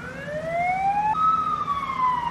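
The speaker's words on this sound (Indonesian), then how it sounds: "suara ambulan terdengar" Ambulance siren wailing close by, a loud rising tone that jumps in pitch partway through and keeps sounding over low background noise.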